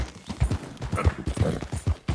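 Galloping horse hooves in Red Dead Redemption 2 beat out a quick, steady rhythm of close, thudding clip-clops across the whole stretch, with no talking.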